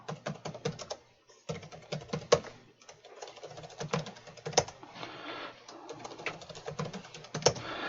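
Fingers tap out a password for the Oracle user on a computer keyboard, with irregular close clicking keystrokes in quick runs broken by short pauses, with no speech.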